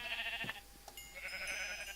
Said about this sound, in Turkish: Zavallı koyun sıkışmış.